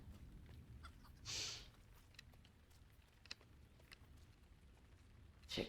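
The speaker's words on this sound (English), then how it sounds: "Chickens." Chickens in the Lord of the Rings Online game world cluck in a brief, faint burst, with another short call at the end over a quiet ambient background.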